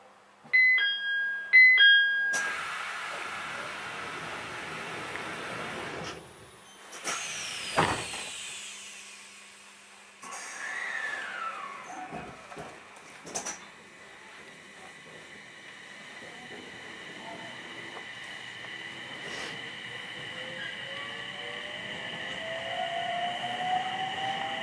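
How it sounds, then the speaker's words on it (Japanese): A Japanese commuter electric train in the Niigata and Sendai area sounds a short repeating door chime. Then the doors close and the motors whine and climb in pitch as it pulls away, moderately loud and up close. "次にドアチャイムと発車音を聞いてみましょう。"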